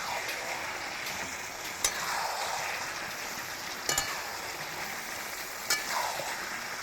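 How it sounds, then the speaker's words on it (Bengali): Chopped onion, tomato and fried potatoes go into a pan with browned spicy mutton curry, giving a steady hiss of frying with a few sharp clinks of stirring. "পেঁয়াজ কোচানো আর কিছু টমেটো কোচানো এগুলো দিয়ে দিচ্ছি বন্ধুরা ভাজা আলুগুলো দিয়ে দিলাম"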